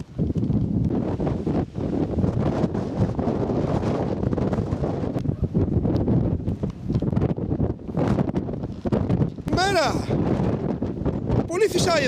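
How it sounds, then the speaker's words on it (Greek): Strong wind buffets the microphone in a loud, continuous rumble at the hilltop mountain settlement of Asfontylitis on Amorgos, with people talking beneath the gusts. "Πολύ φυσάει εδώ πάνω πάντα"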